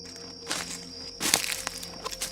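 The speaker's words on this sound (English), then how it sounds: "There was one final footstep. It was really close to the tent." Footsteps crunch outside a tent at a night campsite, a few soft, separate steps spaced apart, the later ones closer and louder over a faint, steady hiss.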